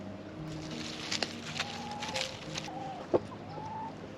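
Hens clucking in a backyard coop, a few short soft clucks and chortles scattered through steady low background noise, fairly close and alone without talk.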